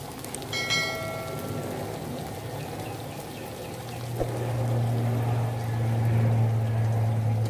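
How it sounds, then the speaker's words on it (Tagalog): Water poured into a pan of frying pork adobo, a loud splashing pour that turns into a hissing sizzle and steady bubbling, with no talking. "Ngayon naman, maglalagay na ako ng tubig."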